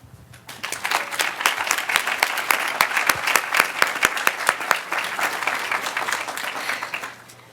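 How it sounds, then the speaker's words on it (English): A conference audience applauds storytellers at a climate-themed storytelling session. Close, crisp individual claps build into a steady, lively round, then taper off near the end. "So a huge thank you to all of our storytellers today. Let's give them another round of applause."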